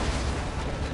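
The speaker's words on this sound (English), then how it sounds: "I'm just gonna throw the skyrocket grenade." A skyrocket grenade exploding in Borderlands 2, a single dense, loud boom filling the whole short burst with a rumbling low end, no talk.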